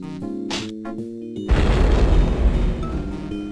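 A bomb blows up on a passing bus in the adventure game Sam and Max Hit the Road, a loud booming explosion that abruptly cuts off the game music and rumbles on for about two seconds.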